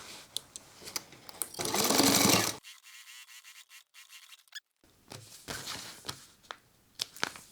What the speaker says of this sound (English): Our next step will be to stitch the entire perimeter once again.